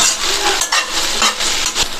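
Masala powder fries in a pan while a spoon stirs it, giving a close sizzle broken by several scraping strokes and soft knocks against the pan, with no voices.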